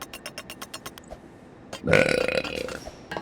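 A loud, drawn-out burp erupts in a Roblox game session, following a series of quiet rhythmic clicks and taps.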